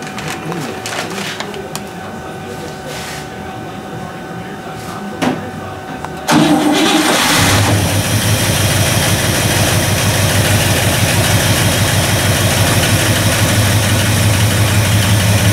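Someone's Pontiac engine cranks briefly, catches and fires, then settles into a loud, steady rumbling idle close by, with voices and background noise audible before it starts.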